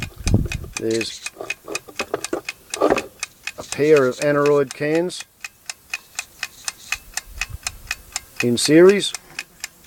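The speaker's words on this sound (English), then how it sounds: "There's a clockwork mechanism inside the drum." Clockwork inside the recording drum of a Gebr. Winter altitude recorder (barograph) ticks in an even, rapid rhythm, crisp and close, running steadily while someone talks over it.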